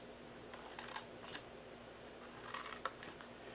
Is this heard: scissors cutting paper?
yes